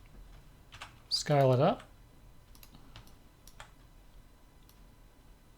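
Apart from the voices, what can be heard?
computer keyboard key presses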